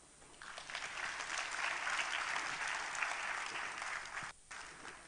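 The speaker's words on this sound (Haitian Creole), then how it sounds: "Et ça doit s'applaudir." An audience claps steadily for about four seconds, a dense broad patter of many hands that swells in and then drops off near the end.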